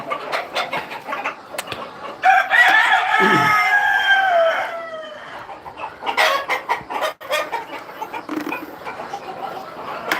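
Village chickens clucking in a busy flock, with a rooster crowing loudly and close partway through, surrounded by steady overlapping clucks and calls.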